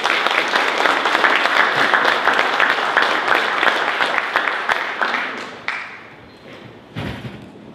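Audience at a keynote address applauds a speaker to the podium, dense steady clapping from a crowd that gradually thins out into a few scattered claps and a thud near the end.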